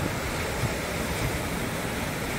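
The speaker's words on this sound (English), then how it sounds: "Oh, the waves have been washing back up here again." Ocean surf on an Outer Banks beach during shark fishing: a continuous broadband wash of waves rolling up the sand, with wind buffeting the microphone, steady and fairly loud, no voices.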